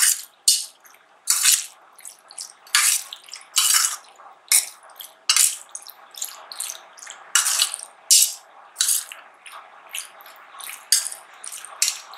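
Mustard oil poured into jackfruit pickle, heard as a series of bright wet splashes and glugging drips in irregular bursts, close up with no talk.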